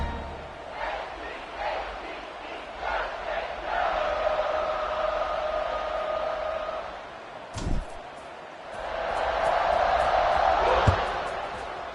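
A football stadium crowd roars as the kickoff unit takes the field, a broad sustained wash of cheering with a sharp thump midway, under a commentator's voice.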